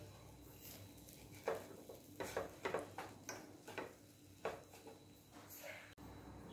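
Roasted chana dal gets stirred in a pan, a faint run of scraping and rattling strokes at an irregular rhythm, fairly quiet.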